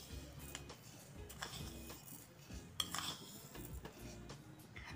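Faint metallic clinks and scrapes of a spoon against a pot while sugar goes into mango rabdi, irregular and quiet throughout.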